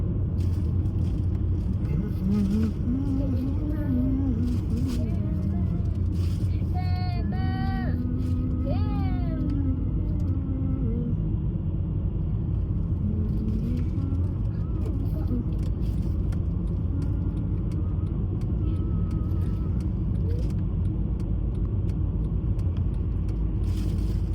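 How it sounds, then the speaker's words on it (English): A car's engine and road noise rumble steadily from inside the cabin while it drives along, a constant low drone throughout, with a voice and other voices briefly heard over it. "पापा ड्राइव कर रहा है"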